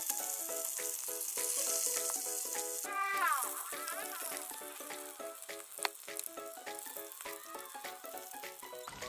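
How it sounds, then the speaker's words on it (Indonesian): Pre-boiled chicken pieces frying in hot oil until browned and crisp on both sides, for Indonesian soto ayam, give a steady, close, dense sizzle with crackling bursts throughout, while a tonal, music-like layer runs underneath and no one speaks. "langsung kita masukkan aja ayam yang sudah direbus dan kita goreng hingga kedua sisinya kecoklatan"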